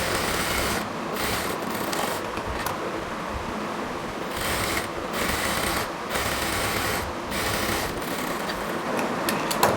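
Sewing machine double-stitching a salwar side seam at about half an inch, a steady close mechanical whir and rasp with brief pauses between bursts of stitching, no talk.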